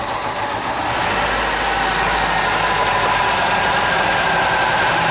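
The engine of an abandoned Volvo 340 car runs in a steady, loud, rough idle with a continuous broadband roar and low rumble, with no voices over it.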